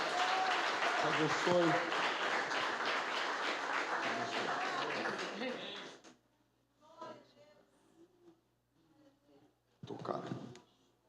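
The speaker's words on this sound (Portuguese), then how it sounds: "Você pode aplaudir ao Senhor" A church congregation applauds during an evening worship service, dense loud clapping that stops abruptly, followed by quieter scattered sounds and a brief spoken voice, then a short final burst.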